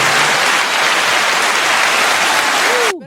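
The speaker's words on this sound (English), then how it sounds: "Let's give her a round of applause for the 11 years clean." Dense, steady clapping congratulates a woman on eleven years clean, running loud and continuous for about three seconds before cutting off abruptly.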